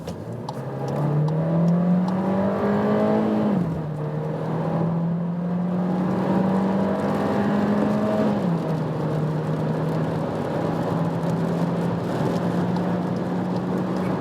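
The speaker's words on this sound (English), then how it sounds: "Let's put to that sports mode, see how this 150 horsepower can bring us on that German motorway from 45 kilometers an hour." A VW Taigo 1.5 TSI with 150 horsepower accelerating hard in sports mode on a German motorway, heard from inside: a rising engine drone with two clear gear-shift drops, then a steady cruising hum with road noise.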